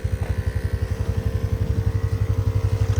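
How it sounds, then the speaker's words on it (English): A small air compressor runs steadily close by, its motor thumping in a fast, even pulse with a constant hum, at a rural off-grid compound. "Well, our little compressor definitely gets plenty of use with the stuff that sits out here."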